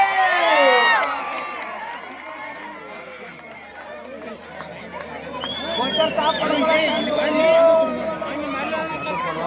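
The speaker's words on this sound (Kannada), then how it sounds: "ಜೋರಾದ ಚಪ್ಪಾಳೆ" A packed crowd at a women's kabaddi semifinal between Haryana and Karnataka in Savadi shouts and cheers loudly, with overlapping excited voices and calls swelling near the start and again later.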